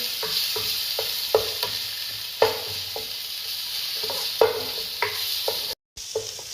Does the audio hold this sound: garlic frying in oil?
yes